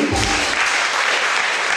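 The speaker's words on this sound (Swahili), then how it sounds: "Piga makofi kwa ajili yake" Congregation applauding in a church, a dense, steady burst of clapping from many hands filling the whole moment with no break.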